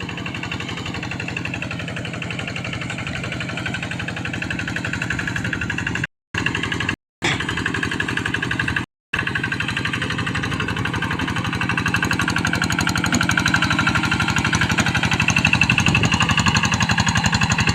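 Kubota RD 85-2S tractor engine plowing a wet rice paddy, a steady mid-pitched diesel drone with a knocking rhythm, continuous and fairly close, with a few brief dropouts and no talk.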